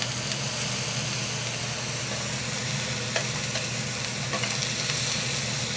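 Onions sizzle and fry in a pan for steak tacos, a steady close crackle with occasional louder pops and no talking.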